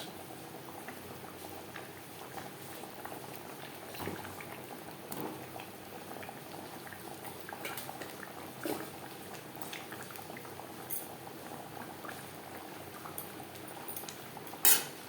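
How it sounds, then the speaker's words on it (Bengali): Fish curry gravy for vola macher jhol bubbles in a pan, a quiet steady simmer of soft popping and gentle liquid patter, with a brief louder clink near the end. "গ্রেভি ফুটে ওঠা পর্যন্ত অপেক্ষা করব দু তিন মিনিট"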